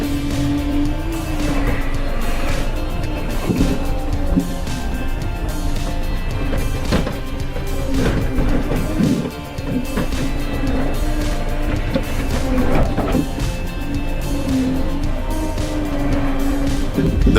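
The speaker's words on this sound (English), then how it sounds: "The creaking sound of the wood mixes with the roaring engine, echoing throughout the space." A heavy wood-handling forestry machine at a port roars steadily and loudly, its engine drone continuous and close, with intermittent knocks and clatter from the logs being moved.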